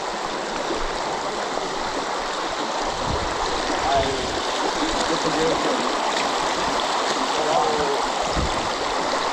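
A river rushes past at a crossing in New Zealand bush, loud and continuous close at hand, with voices talking over the flowing water.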